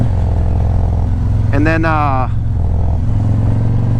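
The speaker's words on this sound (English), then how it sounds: "I'll still let you hear this awesome sound of the exhaust as always" A Harley-style motorcycle exhaust thumps low and steady while riding, with a brief higher engine whine rising over it partway through, and someone speaks briefly over the rumble.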